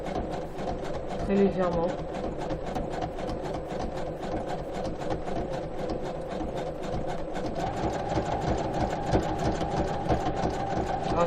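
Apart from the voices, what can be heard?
sewing machine stitching denim jeans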